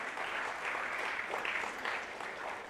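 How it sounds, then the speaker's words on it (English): Officials step on stage at the Tech Mahindra Global Chess League finals to a hall of steady, dense applause, the clapping even and continuous throughout with no talk over it. "Please welcome them with a huge round of applause."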